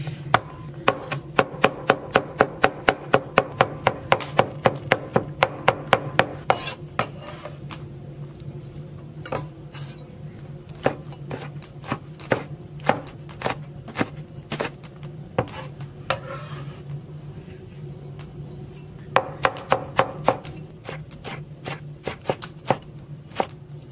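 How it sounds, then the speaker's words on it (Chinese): Garlic being chopped into a paste with a cleaver on a board in a home kitchen, a fast run of sharp, close knocks that pauses for several seconds, resumes in scattered strokes and then speeds up again. "剁点蒜泥。"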